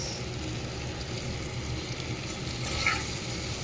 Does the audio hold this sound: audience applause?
no